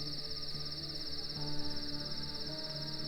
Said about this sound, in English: We found cicadas.